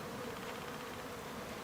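Honeybees buzz steadily around a hive as a shaken swarm settles toward its queen, a dense, continuous drone of many wings holding at an even, moderate level throughout.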